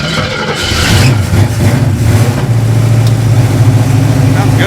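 A dirt car's engine cranks and catches, then settles into a loud, steady idle with a low rumble, close by.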